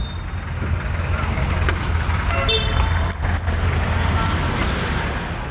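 Road traffic with a passing jeep and engines rumbling steadily, a couple of short horn toots cutting through midway, while a narrator speaks over the scene.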